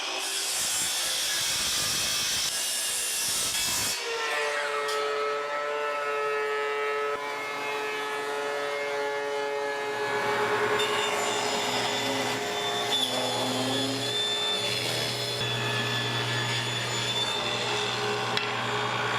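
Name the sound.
milling 2x6 lumber with woodworking machines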